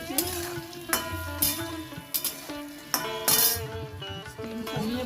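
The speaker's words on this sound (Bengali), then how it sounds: "আলুটা ভাজা প্রায় হয়ে এসেছে।" Potatoes frying in a pan, a steady sizzle punctuated by repeated scraping and clinking of a metal spatula against the pan, close and fairly loud with no talk.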